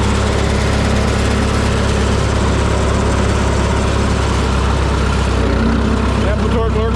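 A loud, steady diesel engine of a 1970 Minneapolis-Moline M670 Super tractor idles close by, a continuous rumbling drone with a voice speaking briefly toward the end.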